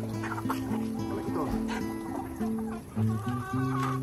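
Rhode Island Red breeder chickens being bathed cluck and squawk close by in short bursts, with water sounds and background music running underneath.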